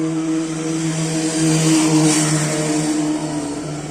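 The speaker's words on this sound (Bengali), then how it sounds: "একটা বাইক আসছে, বাইকটাকে দেখাচ্ছি।" A motorbike engine hums steadily nearby on a street in Sri Lanka, swelling slightly louder mid-clip as it passes, with a low droning tone throughout.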